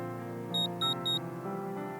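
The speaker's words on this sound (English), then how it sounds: "The VCR beeped in protest." Three short, bright electronic beeps from a VCR in the Witch on the Holy Night visual novel, evenly spaced over a soft sustained background music bed.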